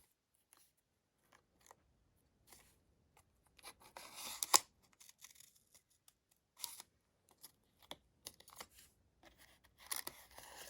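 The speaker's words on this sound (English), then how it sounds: "cutting it out with scissors or an X-Acto knife" Scissors snipping through a paper stencil: quiet, irregular crisp cuts and rustling paper, sometimes in quick clusters, close to the listener with no voices.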